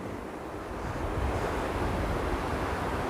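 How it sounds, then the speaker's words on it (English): Ocean waves break on a beach in a steady, loud roar of surf, swelling slightly after the first second, with wind buffeting the microphone throughout. "the waves are just crashing at the right spot"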